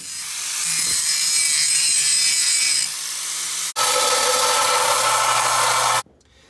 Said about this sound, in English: I'm gonna go grab the grinder and put it in the vise and get started.